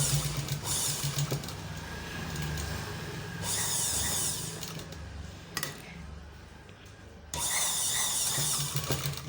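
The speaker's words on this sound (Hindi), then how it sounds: "और फिर अस्तर वाले फैब्रिक को नीचे की तरफ करके वो ऊपर ना दिखने पर सिलाई लगाएं।" A sewing machine stitching purse lining fabric, a close, steady motor whir in several long runs broken by brief pauses.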